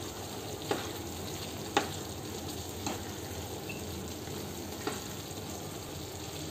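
Soya chunk roast with garam masala and hot water being stirred and mixed in a pan, a soft low simmering hiss with four distinct spoon clacks against the pan, quiet and close, no talk.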